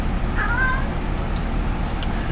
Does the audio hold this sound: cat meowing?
yes